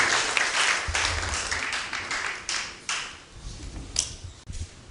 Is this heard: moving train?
no